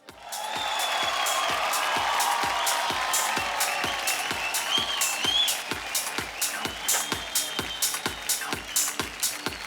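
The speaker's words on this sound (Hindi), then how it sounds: "आइए, जोरदार तालियां।" A crowd at an awards ceremony applauds loudly and steadily, dense clapping that holds for several seconds, with a few distinct claps standing out as it thins near the end.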